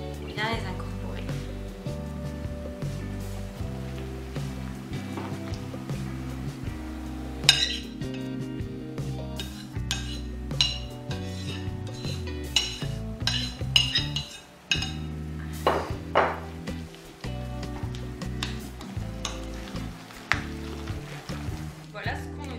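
A spoon scrapes and clinks against a bowl while grated carrots are folded into a thick carrot, oat and walnut cake batter, with irregular clinks and soft thuds under someone talking.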